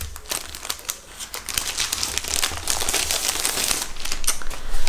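Holographic plastic packaging crinkles and crackles steadily at close range while being worked open, with dense rustling that grows slightly louder toward the end.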